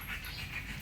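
A mixed-breed street dog (askal) pants steadily and close by, a continuous breathy rasp with no talking over it.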